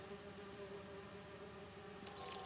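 Bees buzz in Marvel's Spider-Man 2 with a steady, droning hum that holds evenly throughout, with a brief brighter rustle near the end.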